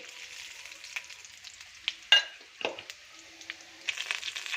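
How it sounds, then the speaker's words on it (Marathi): Cumin seeds sizzle steadily in hot oil in a kadhai-style wok, a close, continuous frying hiss with scattered crackles and one sharp pop near the middle, no voices. "तेल गरम झालं यामध्ये आपण जिरे ॲड करूया"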